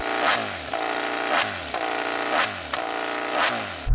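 A MotoGP racing motorcycle engine revs repeatedly, rising in pitch then dropping about once per second in a loud, close, rhythmic cycle of blips.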